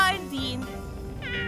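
A cat meows in a short rising cry, close and clear, with a brief second call right after, over light background sound in a children's toy-play setting.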